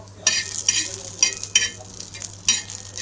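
Green chillies roasting in a dry pan for a black masala chicken curry, heard as several distinct scraping stirs at an irregular rhythm with a light sizzle between them. The sound is close and clear, with no talk.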